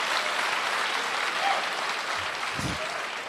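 A large live audience applauds and cheers in a comedy show setting, a steady dense wash of clapping and crowd noise throughout, with a brief low thump near the end.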